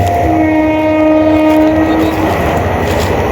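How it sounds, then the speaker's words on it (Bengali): A train rumbles past close by, loud and steady, with a sustained horn tone over the first two seconds and a dense rolling roar throughout. "ট্রেনও চলে গেল"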